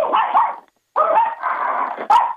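A Yorkshire terrier barks in two sharp, close bursts separated by a brief silence, ending on a higher yip, with no talking over it.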